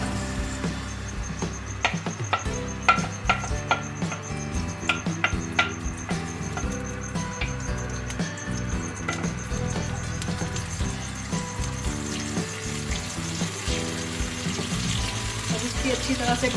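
Moong dal roasts in a pan for halwa, giving a steady crackling sizzle with repeated scraping and clinking of a spoon against the metal as it is stirred, continuous and close throughout.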